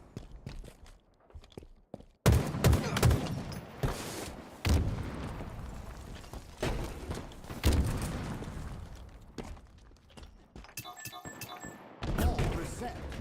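Halo gunfire with Spartans in a ball-mode match, dense bursts of shots and impacts running for long stretches, loud and close, with game voice callouts mixed in.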